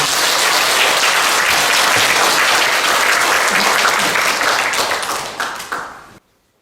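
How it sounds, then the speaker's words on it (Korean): A lecture hall audience gives loud, sustained applause to welcome a lecturer at a Won Buddhist doctrine college session, a dense, close wash of clapping that fades and cuts off abruptly near the end. "큰 박수로 맞이해주시기"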